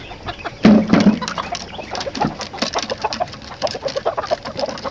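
Several chickens cluck and squawk close by in busy, irregular bursts, with a louder outburst near the start and no speech.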